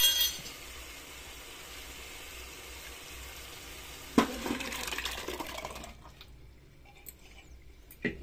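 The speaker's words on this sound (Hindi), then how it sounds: "अब मैं इसमें दाल डालूंगी" Bathua lentils are tipped into a cooking pot of softened tomatoes with a sudden clattering pour, followed by a brief rustling sizzle that fades into near quiet, with no talking.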